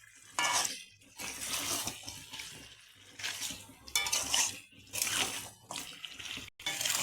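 Water poured and stirred into a cooking pan of Bengali chicken kosha with fried potatoes, bursts of splashing, sizzling and spoon scraping in several short rounds, fairly quiet and close.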